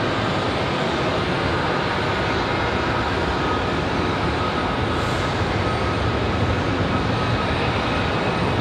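A jet airliner departing Raleigh-Durham airport at night makes a steady, broadband engine roar that holds loud and unbroken throughout, heard from outside with no talk.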